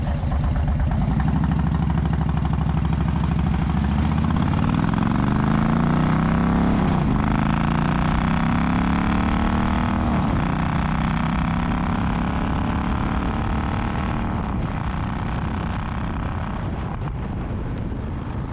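A Royal Enfield Meteor 350 motorcycle rides along, its engine rising in pitch as it accelerates through gears, heavy wind buffeting the microphone throughout, loud and close.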